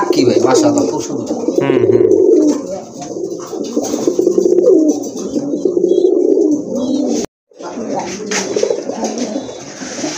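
Rajgolla pigeons, a large-bodied breed, coo in repeated low rolling phrases close by, with a brief dropout partway through and some voice-like murmuring mixed in.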